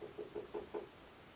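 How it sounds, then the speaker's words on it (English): Five quick, soft knocks in an even rhythm, slightly muffled as if from behind a wall, followed by quiet. "I don't know if you heard that, but that was knocking."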